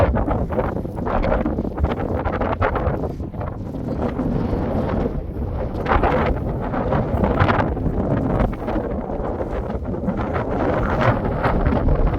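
Steady wind blows outdoors in a Swiss village in the Chur area, a continuous loud rushing and buffeting against the microphone for the whole stretch, with no voices.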